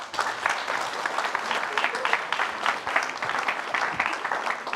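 Steady, dense applause from a television studio audience runs at moderate level through the whole stretch, with no voices standing out over it.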